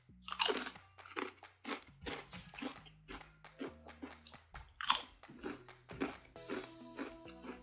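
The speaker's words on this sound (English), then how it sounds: "Here the crunch" Homemade kettle-style potato chips are bitten and chewed up close, giving a rapid series of loud, crisp crunches over several seconds, with no talking.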